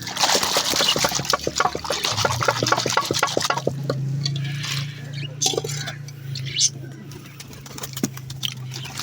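Water splashes and trickles into a bird drinker, a continuous pouring sound with some sloshing and a low background hum.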